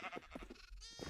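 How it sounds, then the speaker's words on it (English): Minecraft sheep in a base on the Kermitcraft server give several short bleats in quick succession, faint and close together, with a longer wavering bleat near the end and no talk. "We got some sheep in here."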